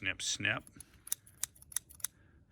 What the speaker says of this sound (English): So we're gonna snip them. I got the scissors. I'm gonna snip